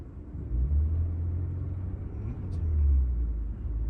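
A car idles and revs during a learner's driving lesson, a low, close engine rumble that swells twice as the revs climb, with a voice in the cabin.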